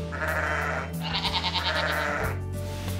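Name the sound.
sheep bleating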